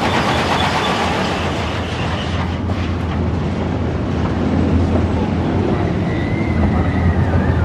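An amusement park ride train at Blackpool Pleasure Beach runs along its track with a loud, continuous rumble and rattling clatter, heard close up and sustained throughout without a break.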